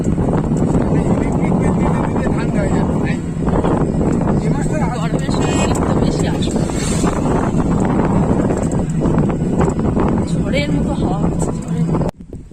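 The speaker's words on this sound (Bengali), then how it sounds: "হাওয়া একদম ঠান্ডা ঠান্ডা হাওয়া এখানে" Steady, loud cold wind buffeting the microphone outdoors near a temple, a continuous low rumble and roar throughout with faint voices underneath, cutting off abruptly near the end.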